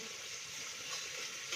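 Peas, corn, capsicum, carrot and tomato frying in a pan give a steady, soft, close sizzle and hiss that runs evenly through the whole moment.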